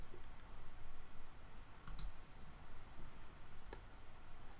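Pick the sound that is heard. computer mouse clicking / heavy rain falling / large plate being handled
computer mouse clicking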